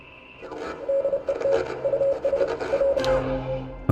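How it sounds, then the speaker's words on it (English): Radio Morse code signal in the video game Oxenfree, a run of short, evenly pitched beeps in quick bursts with brief gaps, heard over a soft static hiss. "Okay, Morse code. This is so cool."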